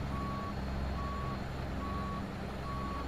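A truck reverses while turning and maneuvering into position, its backup alarm giving four evenly spaced single beeps over a steady, loud engine rumble. Nobody speaks.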